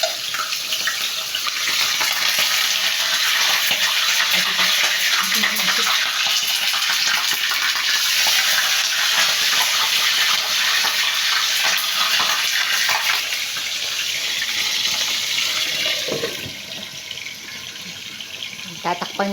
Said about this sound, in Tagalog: umuusok na po yung aking pagpiprituhan na isda. Yan, tumatalampik na.